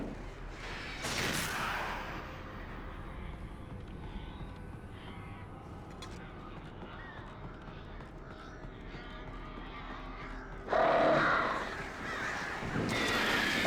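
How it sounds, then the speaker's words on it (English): Crows cawing in the Alan Wake Remastered video game, a few harsh calls standing out near the start and again toward the end over a steady low ambient bed, with no talk. "the birds are actually less annoying to deal with compared to the actual enemies"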